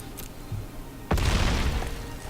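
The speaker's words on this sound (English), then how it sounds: "Love the loud thud of a Giganosaurus hitting into my creatures" A heavy impact thud from a Giganosaurus attack in the MTG Arena video game lands suddenly and loudly, followed by a rumbling, crackling tail over low game background noise.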